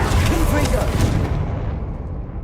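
Confringo fire spell blast in the Hogwarts Legacy video game: a single heavy booming burst with a rumbling tail that fades out quickly, mixed with a brief spoken voice.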